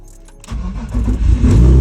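A BMW E46 with a Z32 caliper big brake kit cranks after fuel priming and fires up after sitting for two weeks, the engine catching around halfway and quickly rising into a loud, close idle.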